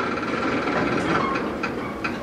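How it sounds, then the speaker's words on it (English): A slow-moving freight train on an industrial line, its coupler knuckles clanking back and forth, gives a few sharp metallic bangs over a steady rumble of rolling cars and engine noise. "You can see the knuckles are banging back and forth."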